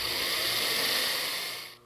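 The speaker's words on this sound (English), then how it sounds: "then we'll go ahead and drill through them." Power drill boring through window braces on a car body, a steady loud whine that runs continuously then stops abruptly at the end, with no talking.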